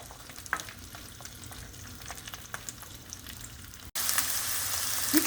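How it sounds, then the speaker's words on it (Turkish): Okra sizzles and crackles in hot olive oil with light stirring, then the frying suddenly grows louder and hisses steadily. "zeytinyağında böyle birkaç kere kavurun"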